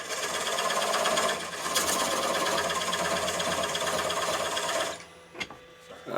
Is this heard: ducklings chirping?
no